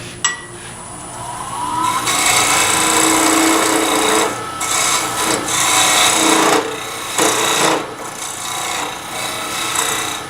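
A skew chisel cuts a dovetail into spinning turned wood on a lathe, making a loud, continuous rasping scrape that swells and briefly drops away several times.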